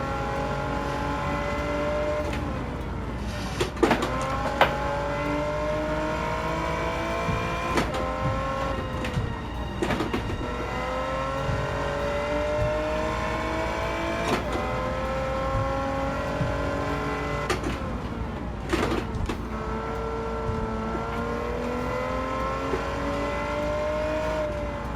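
Engine of the Devil Z car in Gran Turismo 7 droning steadily as it drives, with pitch rising through the gears and dropping at each shift, plus brief clicks and slides between.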